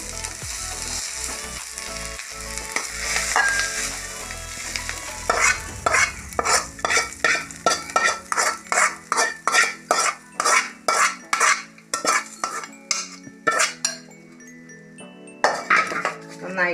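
Beaten egg with drumstick leaves being stirred in a frying pan, a soft sizzle under a long run of rapid, regular metal spoon clinks and scrapes against the pan, close and fairly loud, with a faint voice early on.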